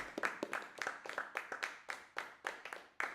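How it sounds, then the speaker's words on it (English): Scattered audience clapping at a stand-up comedy show for comedian Alex Avery, a steady patter of individual hand claps from a modest crowd, fairly quiet and continuous over a few seconds with no talking. "big round of applause, ladies and gentlemen, for Alex Avery"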